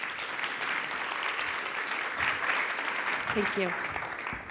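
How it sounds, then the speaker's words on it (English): An audience at a presentation gives Tracey a round of applause, a moderate, steady patter of clapping throughout, with a person briefly speaking over it near the end. "Let's do a round of applause for Tracey."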